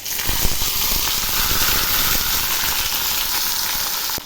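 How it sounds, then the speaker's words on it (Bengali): Potatoes and yardlong beans hit hot oil with a loud, steady sizzle and hiss that carries on without break, close up and with no voices. "এবার আমি দিচ্ছি আলু আর ওই বরবটি কালাইগুলো।"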